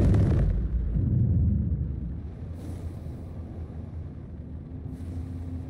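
A luxury spaceship in the space game Star Citizen roars up to thrust in a loud low rumbling blast that gradually settles into a steady engine drone, with faint hiss bursts partway through.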